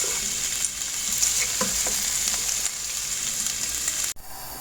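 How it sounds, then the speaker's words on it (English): Bacon bits frying in a pan as a pasta sauce gets started, a steady loud sizzle with scattered pops and faint stirring, cutting off abruptly near the end. "I'll start by adding 200 grams of bacon bits."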